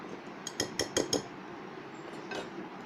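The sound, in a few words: whisking batter with salt in a bowl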